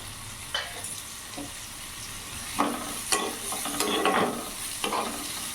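Chopped onion and green chili fry in a pan with a steady, moderately quiet sizzle, broken by several sharp spatula scrapes and knocks as they are stirred.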